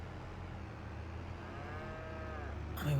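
A herd of cattle mooing in the farming game Farming Simulator 22, with long drawn-out lowing calls at moderate distance over a low steady background hum.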